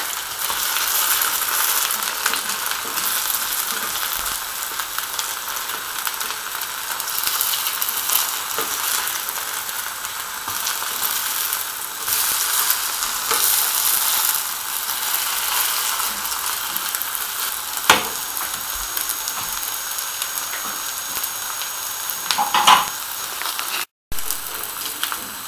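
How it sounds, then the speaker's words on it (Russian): Continuous sizzling and crackling of potato fritters frying in hot oil in a pan over high heat, fairly close and steady, with occasional faint clinks. "Оладьи нужно жарить на сильном огне."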